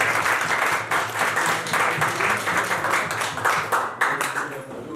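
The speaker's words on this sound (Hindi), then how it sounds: "तो प्लीज इस उपलब्धि के लिए हम जोरदार तालियां बजाएं प्लीज" An indoor audience at a charity foundation event breaks into sustained, fairly loud applause, a dense clapping that continues for several seconds with slight swells and no talk over it.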